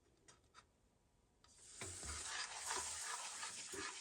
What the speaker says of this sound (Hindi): अच्छा, अब इसमें हम 1 कप दूध डाल देंगे।